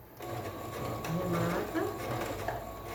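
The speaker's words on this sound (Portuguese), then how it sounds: "Aqui eu não vou nem arrematar porque eu vou passar uma costura em cima da outra" A sewing machine runs steadily while stitching fabric for a small handmade bag, its close mechanical whir holding for several seconds with faint clicks, and a voice speaks over it at times.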